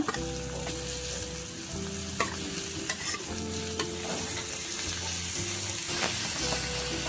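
Curry leaves, onion and coriander frying in a pan for mudda pappu pachi pulusu, a constant close sizzle with repeated rhythmic stirring scrapes of a spoon, no speech.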